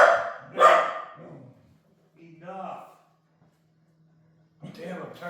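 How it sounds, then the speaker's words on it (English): A dog barks a few times nearby in short bursts, with brief gaps of quiet between them. "I'm tired of you barking every time this thing gets started or move or whatever."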